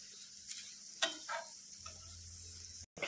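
Chivda ingredients sautéing in a pan, giving a soft, continuous sizzle punctuated by a few light taps and clinks of a spatula stirring, fairly quiet throughout.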